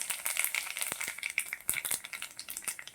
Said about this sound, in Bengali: এবার অল্প তেল অ্যাড করছি। এই যে পুরনে এই যে কালো জিরা দিচ্ছি অল্প।